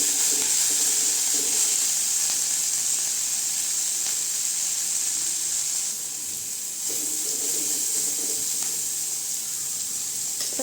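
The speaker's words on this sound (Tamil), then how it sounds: "ஒரு நிமிஷம் நல்லா கிண்டி விட்டுக்கலாங்க" Beans poriyal with chilli powder sizzling in a hot pan while being stirred, a steady close hiss of frying that runs evenly without pause.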